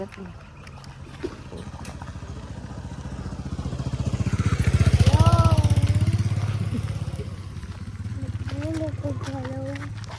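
A motorcycle engine rumbles and swells as it passes nearby, peaking mid-way then fading, with people talking and calling out over it.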